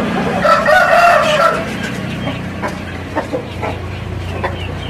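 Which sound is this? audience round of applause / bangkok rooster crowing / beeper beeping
bangkok rooster crowing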